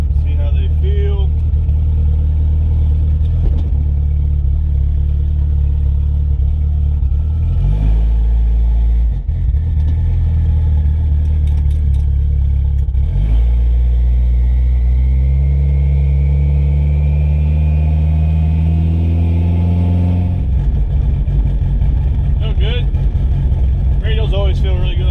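Race car on new Hoosier radial tires pulling away, a loud deep engine drone rising through several gear changes with engine pitch climbing and dropping; close in-car perspective, with someone talking over it.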